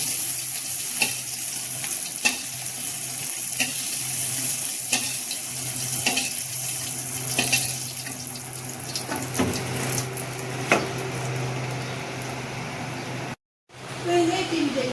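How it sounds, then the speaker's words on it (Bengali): Prawns fry in hot oil in a pan, a steady crackling sizzle with occasional sharp pops and clicks of a utensil stirring, close, ending with a brief cut and a louder sizzle. "চিংড়ি মাছ ভাজা হয়ে গেছে, এবার তুলে নিচ্ছি।"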